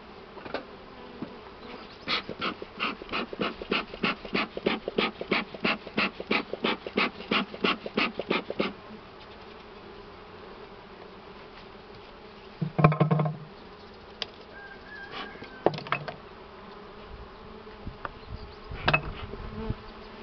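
Honey bees around beehives while the nest is being expanded with added supers, a close buzzing hum with a run of regular pulsing puffs at first, then scattered knocks and rustles as the hive is worked.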